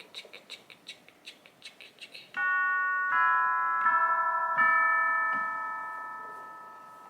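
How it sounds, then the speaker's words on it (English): Bright bell-like chimes for a wedding-themed love song in production: a run of short plucked notes, then sustained ringing tones struck several times, each layering and decaying, loud and clear with no talk. "How do wedding bells sound?"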